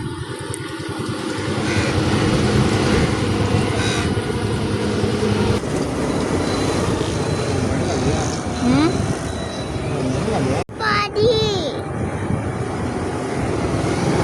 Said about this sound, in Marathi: अय जें पळय हेलिकॉप्टर पळय